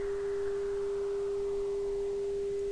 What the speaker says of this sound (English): you'll keep hearing the tones until finally we reach a point